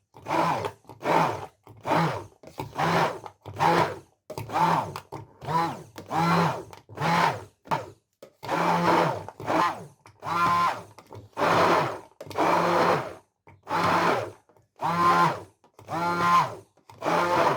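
A kitchen blender whips butter with milk and oil in short, deliberate pulses, about twenty loud, evenly spaced bursts of motor whirr, each cut off by a brief pause, with no talking.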